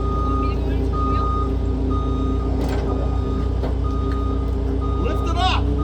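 A truck's reversing alarm beeps in a steady, evenly spaced rhythm over a loud diesel engine rumble as it backs up to pull a Scout, with people talking over it.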